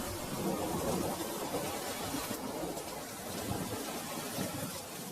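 Steady rain pours through a cartoon jungle, a dense continuous hiss that holds at an even loudness from start to finish, with no voices.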